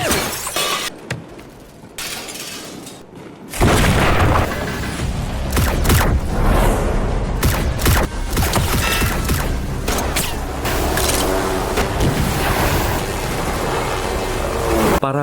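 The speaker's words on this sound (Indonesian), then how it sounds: "Paman Hua mulai menembak" Action-film gunfight with rapid bursts of gunfire, booming impacts and shattering, breaking debris, loud and chaotic after a quieter opening, continuing in dense volleys to the end.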